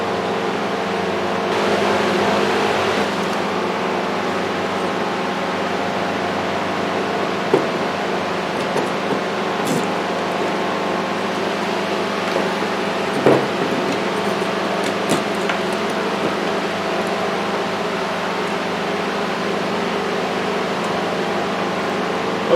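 Stick welding with 1/8 rods on a steel table sends out a continuous, harsh crackling hiss that holds steady for over twenty seconds, broken by a few sharp pops.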